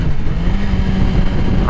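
A motorcycle engine hums steadily as the rider shifts up a gear and matches the RPMs, a continuous close drone with a slight rise in pitch and no speech.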